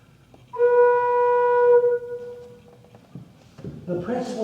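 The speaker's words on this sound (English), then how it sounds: "This is an open flute." An open flute pipe of a pipe organ sounds one steady, clear tone for over a second before stopping, leaving room noise and faint handling sounds.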